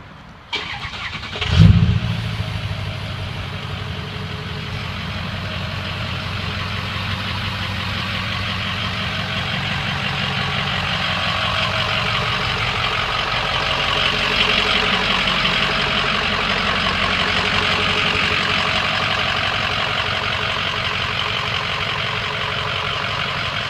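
A 2006 Ford F-250 FX4 pickup with about 210,000 miles fires up by remote start with a brief thump, then settles into a steady, fairly loud idle drone that runs on without voices.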